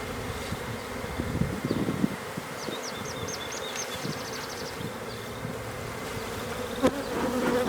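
Honeybees hum around an open hive during a May inspection, a faint, continuous buzz with a few sharper passes of single bees and light handling knocks, with no talking.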